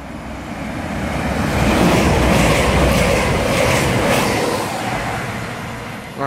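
A British Rail Class 220 Voyager diesel train passes close by on the main line at Warwick, a loud, steady rush of engine and wheel noise that swells to a peak midway and then eases off slightly.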